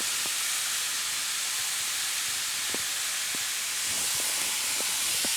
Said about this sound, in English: and our water's boiling